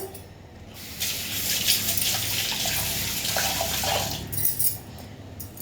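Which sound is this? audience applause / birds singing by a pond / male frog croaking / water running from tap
water running from tap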